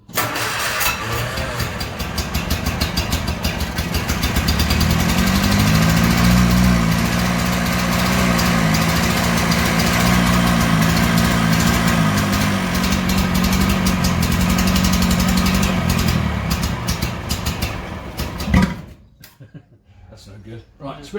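Bedford CA van engine cranks and runs, a loud rough mid-pitched rumble that steadies into an idle before cutting out near the end, with people talking over it.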